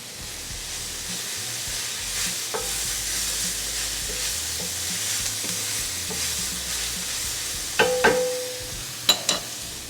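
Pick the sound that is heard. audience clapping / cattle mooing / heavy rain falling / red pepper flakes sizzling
red pepper flakes sizzling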